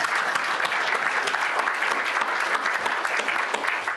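Steady, dense applause from a conference audience fills the room for several seconds, close and even in loudness without any voices.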